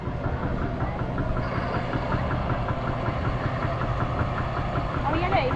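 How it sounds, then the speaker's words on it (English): A tractor engine idles steadily at an agricultural show, a continuous mid-pitched rumble with a faint knocking pulse that holds even and close throughout, with no clear speech over it. "Yeah, that's the hands-free tractor."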